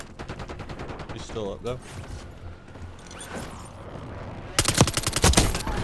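Bursts of gunfire from the Warzone video game, including fast automatic volleys near the start and a loud close burst near the end, with voices talking over the shots.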